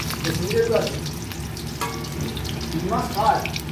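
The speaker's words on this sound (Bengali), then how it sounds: "এই দেখো বন্ধুরা, আমি বড়াগুলো ভেজে নিচ্ছি এইভাবে এক এক করে" Pumpkin flower fritters fry one by one in hot oil, a close, continuous bubbling sizzle with a couple of brief splashy bursts as batter meets the oil.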